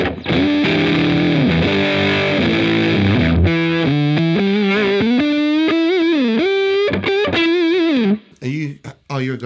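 An electric guitar played through a Digitech Jimi Hendrix multi-effects unit on an intro tone: loud, heavily distorted sustained notes and bends, then choppier phrases near the end.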